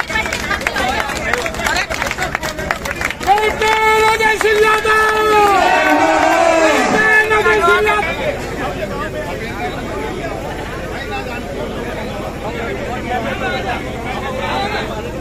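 Large village crowd at a welcome reception for a deputy chief minister visiting his maternal uncle's village, a loud close hubbub of many voices with chanting and clapping, with a tonal musical or chanted line in the middle that fades back into steady babble.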